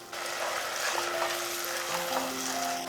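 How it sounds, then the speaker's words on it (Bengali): Tomato and green chilli paste sizzles loudly in a pan of fried ginger for a paneer biryani masala, a steady close frying hiss with faint stirring throughout, no talk. "এরপর এখানে দিয়ে দিচ্ছি টমেটো আর কাঁচা লঙ্কা, যেটা বেটে রেখেছিলাম সেইটা"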